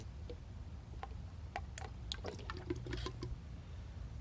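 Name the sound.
pouring transmission fluid through funnel into dipstick tube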